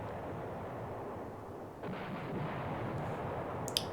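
Artillery bombardment in the war game Command Ops 2 rolls on as a continuous low rumble of distant fire, with a few faint pops near the end.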